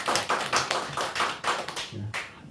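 A small church congregation claps for a couple of seconds, scattered hand claps forming brief, close, uneven applause that thins out toward the end.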